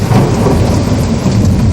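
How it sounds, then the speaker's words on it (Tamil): Heavy rain pouring down in a dense, steady roar, with thunder rumbling continuously underneath. Loud and close, with no voices. "மேகங்கள் கர்ஜித்து மின்னல் பளிச்சிட்டது. மழை வெள்ளமாய் பொழியத் தொடங்கியது."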